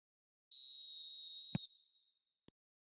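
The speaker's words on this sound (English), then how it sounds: "There's the whistle, and here we go." A referee's whistle starts a match in the eFootball video game, one long, shrill, steady blast lasting about a second, then fading, with a sharp tap and a faint click afterward.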